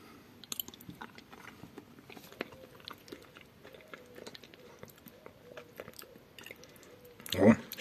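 Someone bites into and chews marinated seaweed from a supermarket, soft wet crunching and smacking sounds scattered quietly throughout, ending with a louder close crunch.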